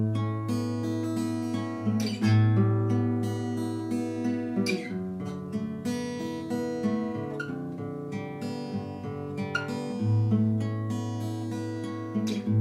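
An acoustic guitar is picked close up, mixing fretted notes with ringing open strings in a flowing thumb-and-finger pattern, with notes sustaining and overlapping and no talk.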